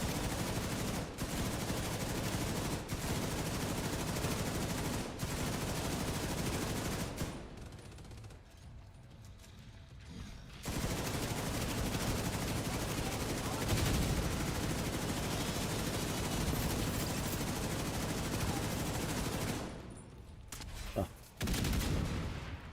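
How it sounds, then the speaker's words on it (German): Gunfire and explosive blasts from grenades in The Division 2 video game, a dense continuous barrage of shots with a brief lull in the middle, loud throughout. "Oh, was war das? Granaten."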